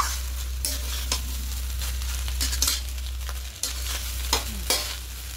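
Rice frying with ghee in a pan over a high gas flame, stirred steadily: a constant sizzle under a low burner hum, broken by repeated scraping strokes of the spoon, with no talking.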